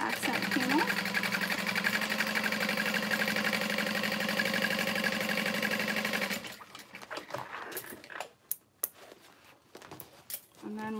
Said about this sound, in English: Switching it up to a stitch length of 5 to top stitch the accent panel